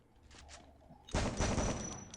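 Gunfire in the Free Fire battle game: a brief quiet stretch with faint taps, then a sudden loud burst of rapid automatic shots that rattles on for about a second.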